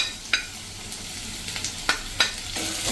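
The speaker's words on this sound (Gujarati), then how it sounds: "અને હવે આપણે જ્યાં કાંદા સમાર્યા છે ને એ નાખી દેશું" Chopped onions sizzle in hot oil with whole cumin over a medium gas flame, a continuous close hiss broken by several sharp spitting pops.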